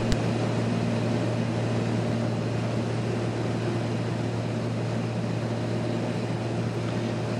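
Inside a small light aircraft landing at Tajima Airport, the engine and propeller keep up a steady, loud, even drone that fills the cabin throughout, with no voices over it.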